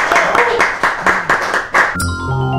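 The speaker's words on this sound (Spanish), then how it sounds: "un fuerte aplauso de vuelta" Applause at the close of a lecture on property rights, rendered as a series of loud, sharp bursts of clapping from a seated audience, which stops abruptly and gives way to music.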